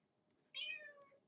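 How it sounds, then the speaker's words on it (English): A pet cat gives a single short meow, clear but not loud, over a quiet room background. "and yes, that's my cat."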